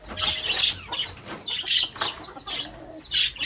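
Several chickens cluck and squawk close by, with bursts of wing flapping mixed in; steady farmyard noise throughout, no talking.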